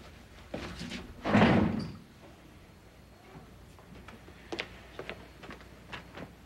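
A house's front door is pulled shut as someone leaves, making one solid, fairly loud close early on. Afterwards the room is quiet apart from a few small clicks and light knocks.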